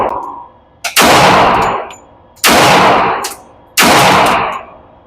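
Three loud, close gunshots from a Rock Island .45 ACP pistol at an outdoor target range, each a sharp crack with a long ringing decay, spaced roughly one and a half seconds apart.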